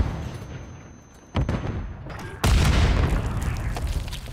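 Gunfire in Call of Duty Modern Warfare 3 breaks out as a sudden loud burst, then a second heavier blast sets off a booming, rumbling barrage that stays loud to the end.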